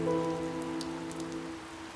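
Typhoon Uwan rain falls steadily on a surface, a dense continuous patter mixed with a low, droning tonal hum, with no talking.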